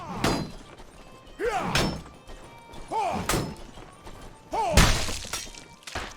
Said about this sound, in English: There's a whoosh as your weapon glides through the air, and when you hit plate armor it's now a nice thud